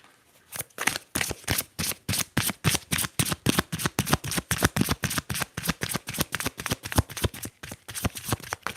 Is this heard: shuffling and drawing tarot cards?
yes